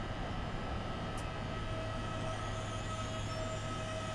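An ALP-45 DP locomotive rolls into a station in a snowy New Jersey setting in Train Simulator 2016, giving a steady low rumble with faint wheel squeal as it slows.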